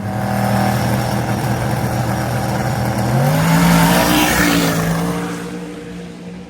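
A drag race car launches into a wheelie at Drag Week, its engine roaring loud and steady, then climbing in pitch partway through with a hint of tire noise.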